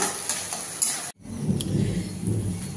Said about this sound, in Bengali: চলো মশলাটা প্রথম ভালো করে ভেজে নেব